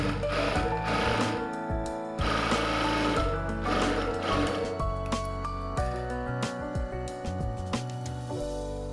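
A sewing machine stitches a lined blouse, running a second line of stitching over the first in loud, close bursts of rapid whirring broken by short stops and small clicks.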